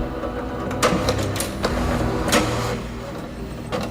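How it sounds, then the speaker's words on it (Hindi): An office printer runs nearby with a steady mechanical whir and rumble, punctuated by a few brief clicks and clacks of moving parts, at moderate volume. "प्रिंटर के चलने की आवाज तो हुई"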